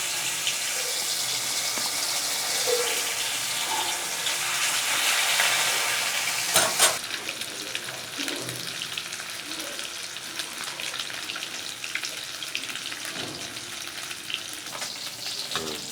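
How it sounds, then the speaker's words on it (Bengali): Silver carp pieces sizzle and crackle in hot mustard oil in a wok, a loud steady frying hiss with a brief clatter partway through, and no talking. "আমার কড়াইয়ের তেল গরম হয়ে গেছে আমি মাছ দিয়ে দিলাম"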